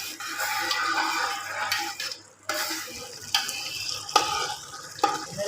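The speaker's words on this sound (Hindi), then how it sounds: "ये दालचीनी, लौंग, सब्ज़ इलायची, मटर डालते हैं" Cinnamon, cloves, green cardamom and peas tipped into a cooking pot for tomato and pea rice, followed by steady sizzling and scraping stirring with a few sharper clinks of the utensil against the pot, close and fairly loud.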